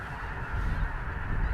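A large flock of snow geese honks in flight overhead during a North Dakota hunt, dense overlapping calls forming a steady, loud, continuous clamor with no talking.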